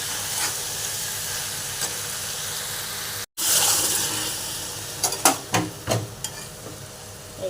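Hot water poured into a pan of meat curry cooked with pumpkin stems, a loud close sizzle and hiss with a brief cut, followed by a burst of steam and scattered popping bubbles.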